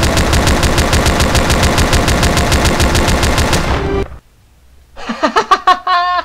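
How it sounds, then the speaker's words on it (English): Rapid, loud automatic gunfire from a volley fired on command in the video game Storm Child, a dense rattling burst of shots for about four seconds, then a short silence before a few sharp, separate reports ring out. "Ready? Aim! Fire!"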